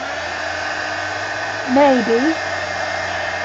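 A hair dryer blows to dry an art journal page, a steady close whir running throughout, with a brief spoken word partway through.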